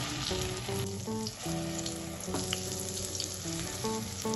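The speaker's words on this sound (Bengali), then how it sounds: "এবার এই মশলাটা তেলের সাথে ভালোভাবে কষিয়ে নেব" Mustard spice paste frying in hot oil for a Bengali mustard bata fish dish, with a steady close sizzle and crackle running the whole time. Background music plays over it and no one speaks.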